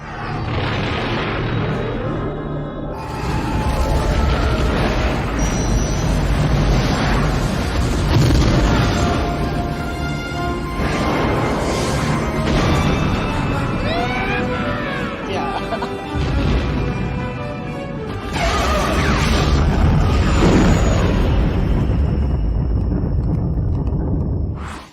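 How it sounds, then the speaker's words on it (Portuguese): Star Wars film scene with a spaceship roaring past and repeated heavy explosions, loud booms and crashing blasts rising and falling over about twenty-five seconds, dense and continuous. "o barulho aí da nave passando, as explosões"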